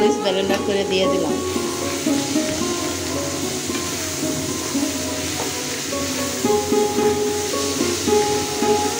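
Dried loitta fish cooking in a pan with blended red chili, giving a steady, close sizzle and bubbling frying hiss that runs the whole time, with a few faint clinks.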